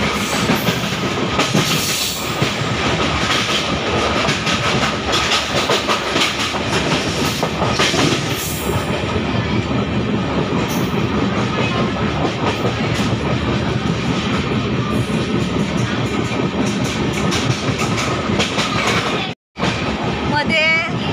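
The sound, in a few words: train travelling from Madgaon Goa to Ratnagiri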